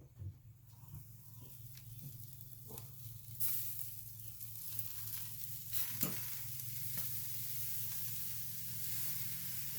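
Hamburger patties sizzling on a pellet smoker converted into a charcoal grill, cooking at a little over 300 degrees: a soft, continuous frying hiss with occasional sharper pops and crackles, fairly quiet and close.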